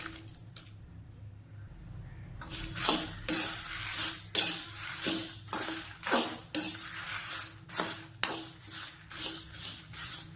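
Urad dal and dried red chillies being dry-roasted together in a pan for idli podi, with a steady series of scraping, stirring clatters from a spoon against the metal pan, close and fairly loud, no talking.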